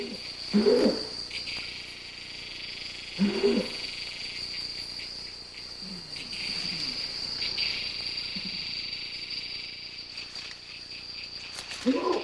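Orangutans give eerie territorial calls in a forest: a few low, hooting cries at intervals, fairly near, over a constant shrill drone of insects.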